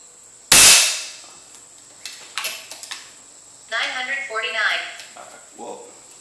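An FX Impact air rifle fires a slug at a target 50 yards downrange, giving one loud, sharp crack followed by a few softer clicks and clatter, then people talking.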